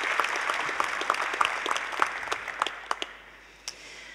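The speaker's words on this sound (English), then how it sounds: "So if we could give them a quick round of applause." A conference keynote audience gives a short round of applause, scattered individual claps thinning out and fading to a last few near the end.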